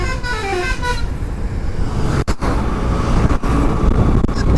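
Road traffic on a highway ride from West Bengal toward Bihar, with a bus rumbling close by and several sharp vehicle horn blasts cutting through the steady engine and road noise.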